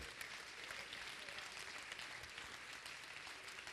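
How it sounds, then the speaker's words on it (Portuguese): A church congregation applauds during a sermon, a dense, steady wash of clapping that holds at an even level from start to finish with no voices above it. "Aplauda o Senhor."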